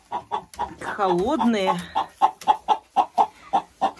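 Hens in nests inside a greenhouse, including a Marans hen, give a steady run of short rhythmic clucks up close, joined midway by a drawn-out, wavering call, with a brief spoken word.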